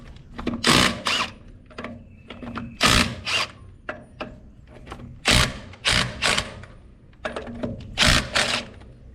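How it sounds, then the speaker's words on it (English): A compact Ridgid impact wrench with a 1 1/8 inch socket removes lug nuts from a 17.5 inch trailer wheel: loud, close bursts of rattling hammering, about six separate runs with short pauses between them, no talking. "let's go ahead and see if my little rigid impact will remove them."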